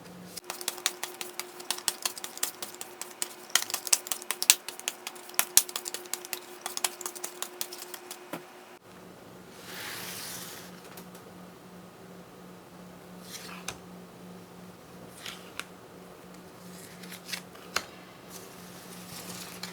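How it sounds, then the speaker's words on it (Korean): Tarot cards are shuffled in a fast papery riffle of rapid flicks, then drawn and laid down in a few soft, scattered slides over a faint steady hum. "그동안에 저는 카드를 뽑아보도록 하겠습니다."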